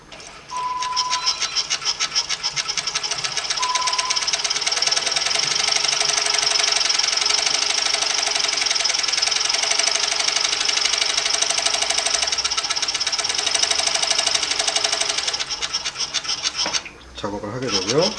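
An MS-9000UTD industrial coverstitch sewing machine stitches fabric with a fast, steady mechanical chatter that runs loud and close for most of the stretch, then briefly stops before restarting, with a voice talking at times.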